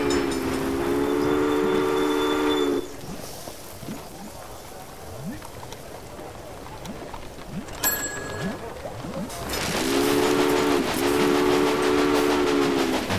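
A steam train in the Railway Empire video game sounds a long, loud harmonic whistle, falls quiet under rumbling running noise, then whistles again in two blasts, with game speech underneath.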